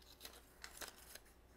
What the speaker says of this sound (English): Scissors just chomping.